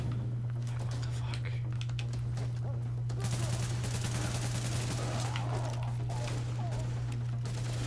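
Video game gunfire from The Division, a long continuous burst of rapid shots with dense rattling bursts, loud and steady over a low constant hum.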